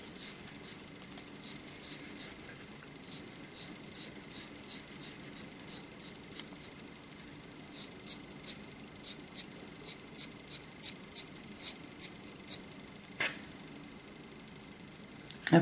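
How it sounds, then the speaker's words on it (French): Scissors snip wool yarn while making Christmas decorations: a long series of crisp, close cutting clicks in a steady uneven rhythm over a quiet room, with no talking. "Et on va couper."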